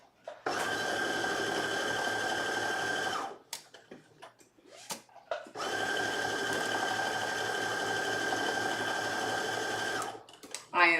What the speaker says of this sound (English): I am now sewing around her pockets